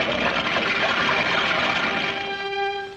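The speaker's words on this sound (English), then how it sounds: "the room was filled with water" Cartoon water floods into a room through a porthole as a dense, rushing gush that holds steady, then thins into a bubbling, tonal trickle near the end.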